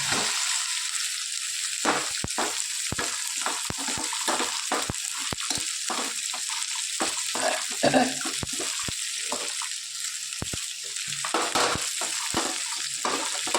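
Okra sizzles in a pan of oil left from frying potatoes, giving a constant close hiss broken by frequent clicks and scrapes of stirring.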